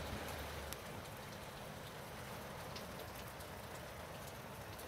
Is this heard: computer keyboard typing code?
no